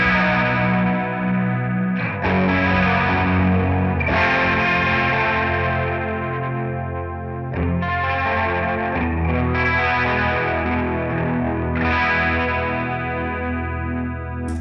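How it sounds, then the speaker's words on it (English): An Ibanez Iceman electric guitar plays through a Roland DC-50 digital chorus followed by distortion, giving sustained, shimmering, gritty chords that are struck every couple of seconds and ring out loud and alone. "So you're getting much more of the chorusy and noise."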